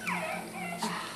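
A puppy whimpering in two close, high-pitched whines, the second short and sharper, fairly near and clear with no voices.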